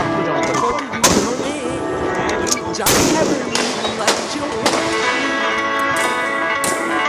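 Heavy police gunfire aimed at protesting students on a street in Dhaka, loud sharp cracks and booming reports in irregular bursts over continuous crowd noise and shouting.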